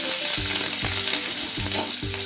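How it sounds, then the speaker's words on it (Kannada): Byadgi chillies and curry leaves crackle in hot oil for mango gojju, a constant close sizzle with four or five firm stirring strokes scraping the pan at an even pace. "ಬ್ಯಾಡಗಿ ಮೆಣಸಿನ್ಕಾಯಿ, ಕರಿಬೇವು ಹಾಕಿ ಸ್ವಲ್ಪ ಹೊತ್ತು ಫ್ರೈ ಮಾಡ್ಕೊಳ್ಳಿ."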